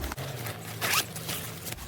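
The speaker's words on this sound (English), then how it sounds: "And there's another zipper." A zipper on a hardshell expandable suitcase is pulled open in one short, close, scratchy run, with faint handling noise around it.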